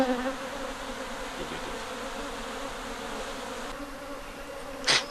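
Steady buzzing of many honey bees close by during a hive transfer in Ghana, a continuous droning hum with one louder buzz passing near the end.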